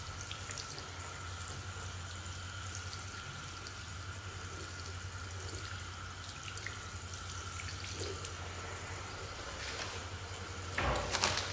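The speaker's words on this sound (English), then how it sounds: "clean wrists, and rinse, being careful not to touch the sink." Hands are rinsed under a running sink tap, making a steady, even rush of water that runs throughout, with a brief louder splash or clatter near the end.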